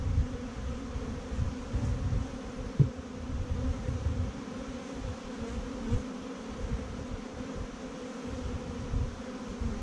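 Honeybees in an opened hive box holding honey and brood frames, a dense low continuous buzz close by, steady throughout with one faint knock, no talking.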